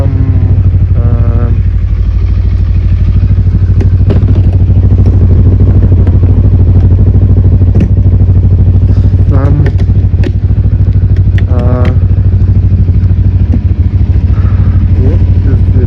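Motorcycle engine running steadily up close while riding, with a constant droning rumble and occasional clattering and rattles throughout.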